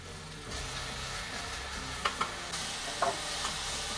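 Sliced onions fry in a pan for a prawn and chicken biryani, a low steady sizzle under occasional stirring scrapes and a few sharp spoon taps against the pan.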